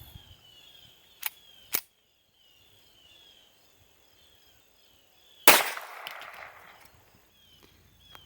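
A single sharp crack of a .22 LR Mini-Mag hollow point round fired outdoors, loud and sudden, trailing into a short decaying echo, preceded by a couple of faint clicks and surrounded by quiet insect-like background.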